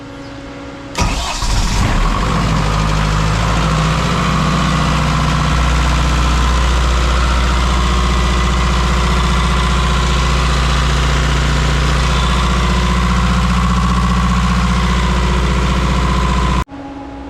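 A CAT generator engine cranks briefly and catches, then settles into a loud, steady idle that runs on evenly without pause.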